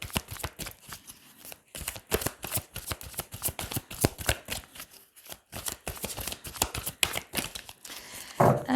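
Tarot cards riffle and slap together in a long, busy shuffle, dense papery bursts with short pauses, then a cut of the deck near the end, close and fairly loud with no talking.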